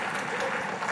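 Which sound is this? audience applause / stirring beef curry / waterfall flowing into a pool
audience applause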